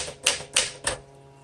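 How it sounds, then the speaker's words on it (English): Three sharp key strikes on a 1961 Smith Corona Sterling 5A manual typewriter, evenly spaced and close, with a brief quiet tail after the last. "What a great little typewriter."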